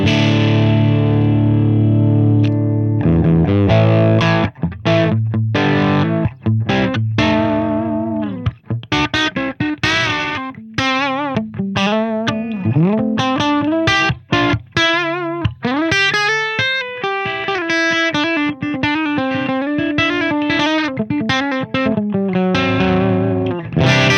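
Electric guitar through an Engl Retro Tube 100 valve amp with the gain cranked and the master turned down, playing thick, distorted riffs and bent lead notes with heavy bottom end, loud and continuous with no talking.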